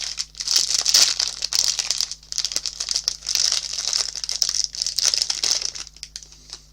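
Plastic packaging of a small Stitch-themed haul item is worked open by hand, a dense, continuous crackle and crinkle close to the ear with no talking.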